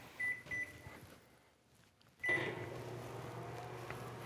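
Microwave oven heating glass for jewelry-making at 70% power: a few beeps from the control panel, a brief quiet, then a steady low hum of the oven running.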